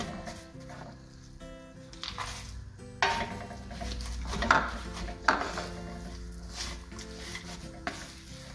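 Dry fruits being added and stirred into browned atta pinni mixture in a pan, a soft steady scraping and rubbing with a few louder clunks of the spoon against the pan, close by over faint background music.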